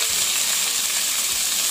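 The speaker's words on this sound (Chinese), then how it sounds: "尽量的把水分给它煎干" Small crucian carp pan-frying in a wok as the moisture cooks off, a dense close hissing sizzle with soft irregular pops and a faint scrape, no talking.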